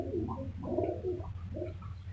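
Pigeons at an outdoor Sunday bird market in Multan coo in soft, low repeated bursts, several throaty calls close by over a steady background hum, with no talk.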